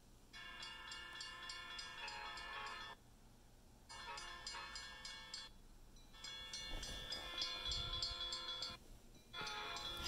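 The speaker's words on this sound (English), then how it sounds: "going to be an Amtrak coming through" An Amtrak train rushes past at speed through a fast curve, its clattering wheels and roaring cars loud and close, with brief gaps as the cars go by.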